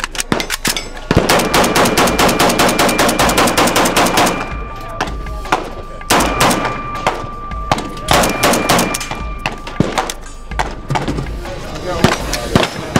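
Century Arms C39 V2 AK rifle fired at an outdoor range during a media day, with loud rapid bursts of automatic-sounding shots, echoing cracks, and pauses between strings of fire.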